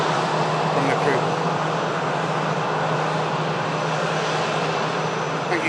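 An airliner arriving from Dublin passes fairly close with a steady, moderately loud engine rumble and hum that stays level throughout, while a person talks over it.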